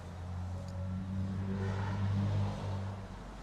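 A Ram 2500 Laramie 4x4 pickup with a 6.7-litre Cummins turbo diesel runs with a low, steady engine drone. The drone swells slightly in the middle, then eases. It is moderately quiet and heard alone.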